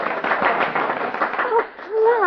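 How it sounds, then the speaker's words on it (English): A burst of spontaneous applause in an old-time radio drama. Clapping swells briefly with a few voices mixed in, then gives way to a speaking voice. "we burst into spontaneous applause"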